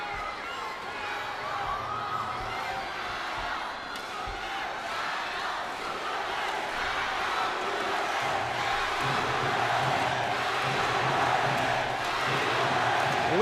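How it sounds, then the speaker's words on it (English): Roaring crowd of Chinese and Korean supporters at a tense men's singles badminton team final at the 2014 Asian Games, a dense, steady wall of cheering that swells slightly louder toward the end, with faint talk mixed in. "Listen to the roar of the crowd"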